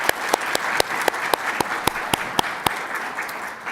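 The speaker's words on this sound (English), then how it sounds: "if we can take a second just for one more round of applause" Audience applause at a university energy week event: a steady round of clapping from a seated crowd in a hall, with a few sharper claps standing out near the microphone, fading slightly toward the end.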